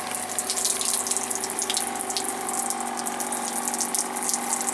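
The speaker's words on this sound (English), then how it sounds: "Loads of flow, good rinse." Rinse water pours steadily from a Facelift Bigboy backpack window-cleaning system, a loud, continuous gushing spray over a faint pump hum.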